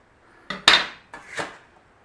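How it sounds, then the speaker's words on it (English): A knife slices beef on a diagonal for a beef and broccoli stir-fry, giving two or three quick, crisp cuts and knocks against the board at close range. No one speaks. "All we have to do is slice on a diagonal and give us some really nice slices"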